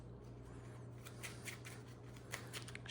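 Quiet, quick papery riffles of trading cards being shuffled, a soft flurry of flicks over a low steady hum, with no one talking.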